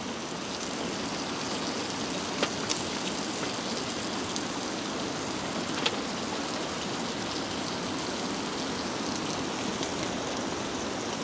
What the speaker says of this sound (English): It looks like we're going to be walking out in the rain.